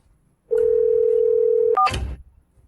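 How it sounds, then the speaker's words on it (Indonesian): A telephone handset gives a steady dial tone for over a second while a call is being placed, then a short keypress beep and a click cut it off, all heard up close. "Aku harus telepon."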